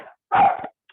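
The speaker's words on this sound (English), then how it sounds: "I apologize for the barky dog." A barky dog in a home workout space gives one short bark burst, loud and close, with a fainter yelp just before it and a tiny yip after.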